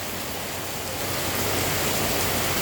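Continuous rain falls steadily and loudly, a dense, even hiss with no wind, filling the whole moment without any voices.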